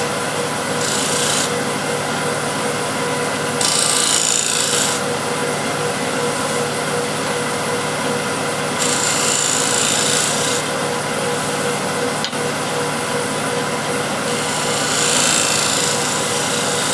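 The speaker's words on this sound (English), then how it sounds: "with a spear point scraper, I just want to scrape this section here" A spear point scraper scrapes steadily across a wooden bowl, a loud continuous rasping broken into several longer strokes.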